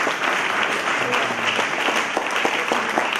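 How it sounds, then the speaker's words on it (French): A church congregation applauding during a sermon: dense, steady clapping from many hands throughout, with faint voices mixed in. "Et par des acclamations bien nourries, comme nous savons le faire."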